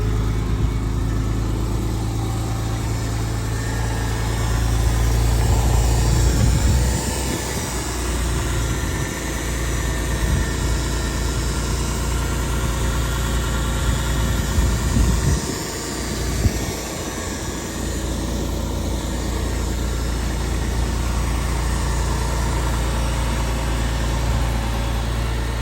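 A Porsche 911 C4 idling after a cold start: a steady, loud, low engine rumble that holds evenly throughout, with brief dips and swells in the middle and no voices.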